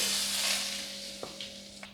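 Nigella seeds and dried red chillies hit hot oil, giving a steady broad sizzle that fades gradually, with a few faint clicks from the spices near the end.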